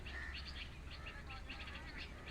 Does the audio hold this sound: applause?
no